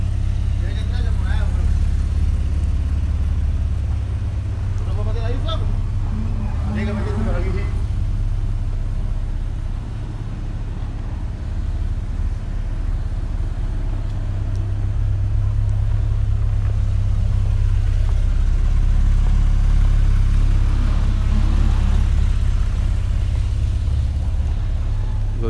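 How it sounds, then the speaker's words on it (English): Several Porsche cars drive and idle at a dealership as they are lined up in rows ahead of Hurricane Irma, a steady low engine rumble throughout with brief revs, and people talking under the vehicle noise. "Next row of Porsches being lined up."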